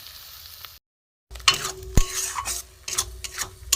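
Cauliflower leaf paste frying in oil is stirred with scraping, clinking strokes over a crackling sizzle, broken by a brief silent gap before the stirring resumes close and busy.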